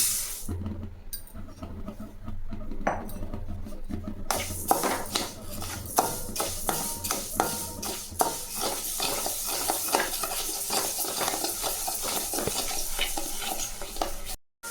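Raw rice stirred and dry-roasted in a pan, with a spoon scraping and rattling the grains in a steady, busy rhythm and a faint sizzle underneath, close and moderately quiet, then ending abruptly.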